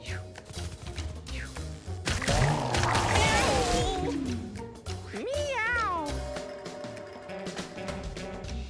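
Cats meowing in the video game Mewgenics, zombie cats in battle: several drawn-out, sliding meows near 3 s and 5.5 s over busy game music and effects.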